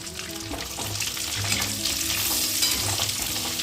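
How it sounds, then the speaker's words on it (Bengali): Potatoes frying in oil already used for chicken, a dense continuous sizzle and bubbling close by, with faint stirring underneath and no voices. "চিকেন ভাজা তেলের ভেতর আলুগুলো ভেজে নেব"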